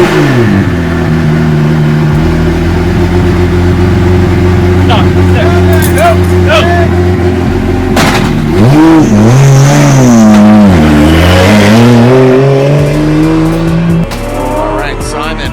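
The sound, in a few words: drift race car engine started and revving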